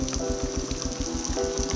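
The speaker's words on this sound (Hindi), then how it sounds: "रेनिंग अगेन और बहुत तेज़ बारिश होती है।" Heavy rain pours steadily during a motorbike ride, a dense hiss with a rhythmic low thumping running beneath it.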